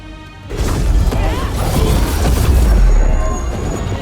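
A heavy booming detonation from the Dark Squall ability in Dragon Age The Veilguard, a loud sustained crash and rumble right after a brief quiet start, with swishing magic layered over it.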